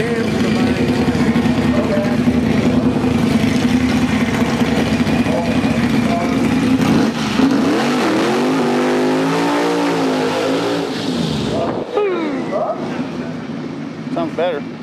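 Drag race car at Lightning Fest 2010 in Kansas, running with changed cams, roars loudly at full throttle, the engine pitch rising and falling, while people talk nearby.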